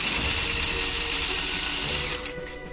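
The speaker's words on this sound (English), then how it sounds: "I'm gonna press the chop setting here" A mini food processor on its chop setting runs a steady, loud motor whir as it grinds Cheetos, the buzzing blades continuing without talk before tapering off at the end.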